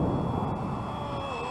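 Flywing 450 v2 RC helicopter in flight gives a steady, loud, continuous motor and rotor whine with a constant high tone and no breaks.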